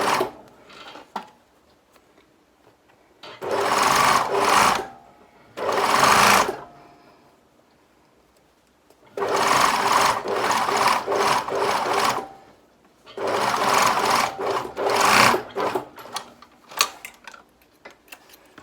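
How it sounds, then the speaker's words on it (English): A sewing machine runs through a sleeve seam of a garment in four bursts, each a few seconds long, separated by short quiet pauses. The stitching is loud and close, with no talk. "I'm going to start sewing from where that opening is."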